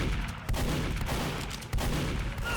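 Rapid gunfire from the game Team Fortress 2 crackles in dense bursts with a few sharper shots standing out, fairly quiet and continuous.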